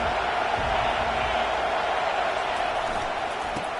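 A football stadium crowd at a Virginia Tech versus Boston College game roars in a steady, loud wash of cheering that holds without a break.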